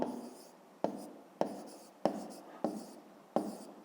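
A math exercise is written by hand, giving six close scratchy pen or pencil strokes, each starting with a sharp attack and fading away, at a steady, unhurried pace on paper.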